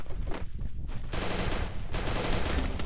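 Rapid bursts of automatic gunfire in an online shooter game, loud and dense, with a short lull before the firing resumes and keeps going to the end.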